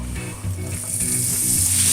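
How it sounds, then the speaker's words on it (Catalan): Diced pork belly sizzles in olive oil in a casserole pan, a steady crackling hiss with light stirring, close and fairly loud. "I ho posarem a fregir en una cassola amb un raig d'oli d'oliva."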